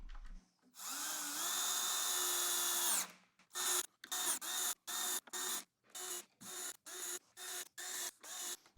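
A power drill drives 1.5-inch screws into a cabinet box: one long steady whine of about two seconds, then a run of short, evenly spaced bursts as each screw is snugged tight, fairly close and with no talking.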